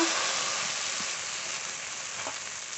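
Mustard and poppy seed paste frying with a little water in a pan for a fish curry, a steady close hiss of sizzling with a few faint stirring taps, no voices.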